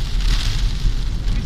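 Heavy rain falling steadily in Schisto, a dense continuous roar of drops with low rumbling underneath and no voices.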